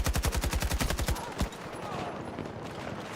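AK rifle in the Battlefield 6 video game fires a rapid full-auto burst of about a dozen evenly spaced loud shots, ending in one final crack, followed by quieter game ambience.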